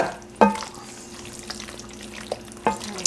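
Chopped chicken sizzling in a pan while being stirred, a low steady frying hiss broken by a few sharp scraping clacks of the utensil against the pan, close and alone.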